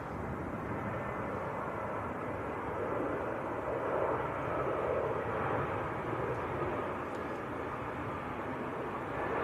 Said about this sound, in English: this is Aer Lingus from Dublin, A320